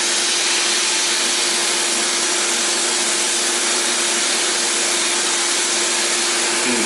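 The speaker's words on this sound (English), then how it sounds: "I'm gonna hit all the really nasty spots with the sand blaster" A sand blaster blasts grit at metal welds, a loud continuous broadband hiss with a steady hum underneath, running unbroken from start to finish.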